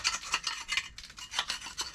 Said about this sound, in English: Clean it off with a scraper, or you can use compressed air